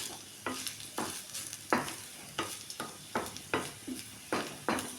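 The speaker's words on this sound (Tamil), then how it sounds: "கொஞ்சம் தேங்காயோடு வதக்கிட்டுங்க." Grated beetroot and coconut sautéed in a pan for beetroot chutney, repeated rhythmic scrapes of a spoon against the pan over a low sizzle, about nine strokes, close and with no talk.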